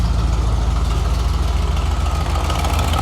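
Ford AU XR8 V8 idling close up with a leaking exhaust manifold, a steady loud rumble with a rapid ticking pulse running through it.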